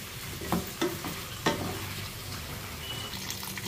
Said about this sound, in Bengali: এটার মধ্যে আমি চিকেনটা ভেজে নেব